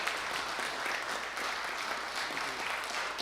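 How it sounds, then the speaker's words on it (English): Applause from an audience at a village council meeting, a steady broadband patter of many hands filling the room throughout, moderately loud and continuous with no talk over it. "can I get a round of applause?"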